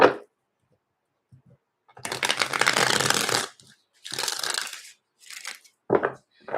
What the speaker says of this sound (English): I need to shuffle these up.